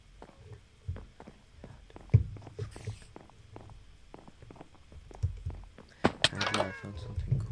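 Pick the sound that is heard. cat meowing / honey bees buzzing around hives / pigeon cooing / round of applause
cat meowing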